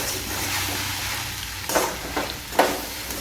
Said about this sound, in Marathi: शेंगदाण्याचं कूट घालून मस्तपैकी फिरवून घेऊया